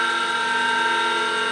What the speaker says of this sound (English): So we'll start the drill up